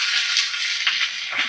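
Raw green tomatoes hit a hot pan and set off a loud, steady, close sizzle of frying with a faint spatter, continuous throughout without voices.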